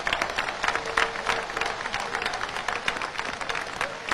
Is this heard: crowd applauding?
yes